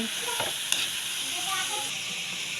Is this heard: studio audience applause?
no